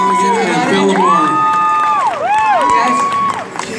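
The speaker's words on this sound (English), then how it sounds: "I want to give everyone a round of applause for our guests" A crowd at a voice actor Q&A panel cheers loudly for guests Todd Haberkorn, Rodger Bumpass, Maile Flanagan and Phil Lamarr, with high whoops and shouted calls ringing out over a steady roar for the full stretch.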